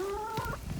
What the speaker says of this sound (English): This is the chicken Set. She's one of the alpha chickens because she runs with the guineas